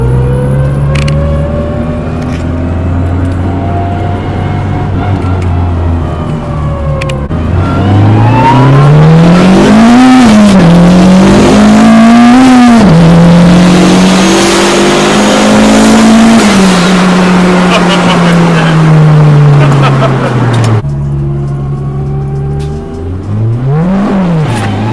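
A built turbocharged all-wheel-drive Honda Civic accelerates hard from inside the cabin, its engine note climbing loudly through several gears with drops at each shift and a roaring pull that lasts the whole stretch.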